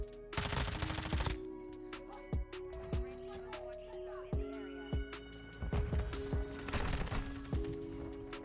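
Lachmann Sub submachine gun fire in Modern Warfare 2, with sharp close shots in bursts and single cracks spread across the span, dense rapid bursts near the start and end, and game ambience underneath.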